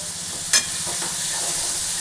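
Tomatoes stirred in a sizzling pan while Maggi noodles cook, giving a steady close frying hiss with a brief scrape of the spoon near the start and no talking.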